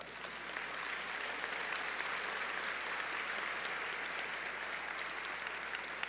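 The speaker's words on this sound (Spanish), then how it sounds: "Denle un aplauso al Señor." A church congregation gives sustained applause during a sermon, a broad, even wash of many hands clapping that holds steady throughout, heard from some distance without any voices over it.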